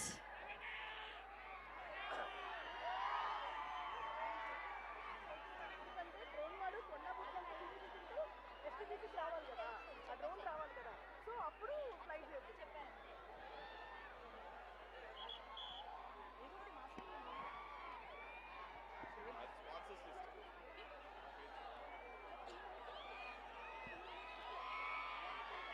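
A crowd at a film trailer launch event cheers, whoops and claps to welcome dancers, a dense continuous roar of excited voices and chatter under an announcer's speech.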